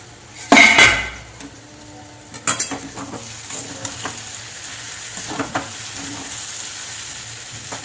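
A metal lid comes off a pan of potato curry with a sharp clank, followed by soft, steady sizzling and occasional light clinks of the pan as the curry cooks.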